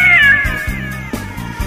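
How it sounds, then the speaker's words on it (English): A cat meowing loudly and close as a sound effect in a podcast story, one drawn-out wailing meow that bends downward and trails into a rougher caterwaul, alone. "staring you face to face in the mirror is a cat"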